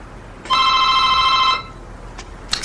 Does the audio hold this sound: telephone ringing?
yes